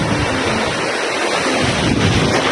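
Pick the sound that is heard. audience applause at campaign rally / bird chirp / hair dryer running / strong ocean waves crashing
strong ocean waves crashing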